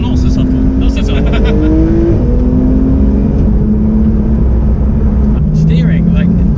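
A Porsche 991 GT3 engine revs hard under acceleration, a loud rising and falling howl with gear changes, while someone talks over it close by.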